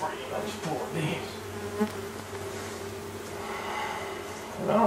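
Honey bees hum in a continuous close buzz around a hive frame, with individual bees droning past now and then.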